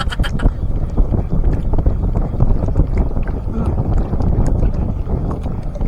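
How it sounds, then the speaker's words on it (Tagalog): Strong wind buffeting the microphone with a steady, loud roar while fishing, broken by a few faint clicks and splashes. "Lakas naman ng hangin."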